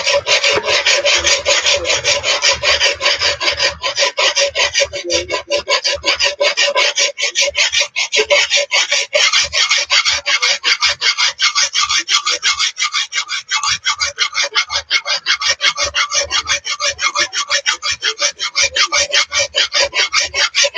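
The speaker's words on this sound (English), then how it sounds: "Draw filing around part, you just got to keep moving" Draw filing along a Friedr Herder straight razor blade from a kit: a long run of quick, rhythmic rasping strokes, close and loud, with no pauses.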